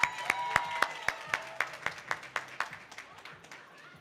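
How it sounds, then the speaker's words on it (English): Students clapping for a classmate at a school morning meeting, a thin, fairly quiet patter of claps that gradually fades. "Please give a big round of applause to Jay."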